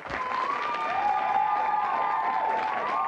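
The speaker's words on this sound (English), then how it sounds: "give her a round of applause. Alison Blair." TV game show studio audience on Blockbusters applauding a contestant, a steady moderate clapping wash with a sustained musical tone running beneath it throughout.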